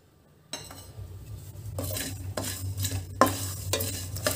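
Poppy seeds hit a pan holding cinnamon and cloves for a drumstick masala curry, starting a close, quiet sizzle broken by several bursts of rattling stirring and metal scraping.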